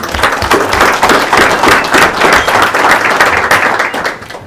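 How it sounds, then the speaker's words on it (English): Steady, dense applause from an audience at a legislative breakfast, many hands clapping continuously at close range before tapering off at the very end. "Let's give Butch another round of applause"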